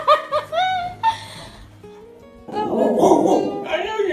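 A rescued pit bull gives a few close, sharp barks and yelps in the first second and a half, followed by people laughing and chuckling nearby.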